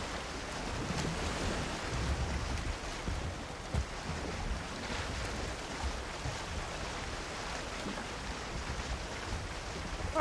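Ocean waves surge and wash around a boat at sea in Valheim, a continuous broad roar of surf and wind with no speech.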